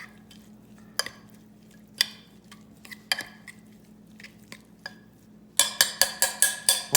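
Potato filling with lime juice, salt and cilantro is stirred by hand, with scattered scraping clinks against the bowl and then a quick series of sharp repeated knocks near the end.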